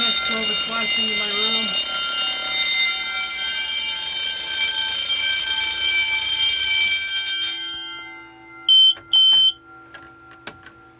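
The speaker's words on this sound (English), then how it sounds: "I prefer 10-inch bells than horns, in my opinion" Loud, continuous ringing of 10-inch electric fire alarm bells during a system test that stops abruptly, followed by a few sharp electronic beeps and clicks.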